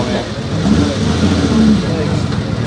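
A Ferrari's engine runs steadily at an outdoor car show, a broad mid-level rumble held throughout beneath a voice talking over it.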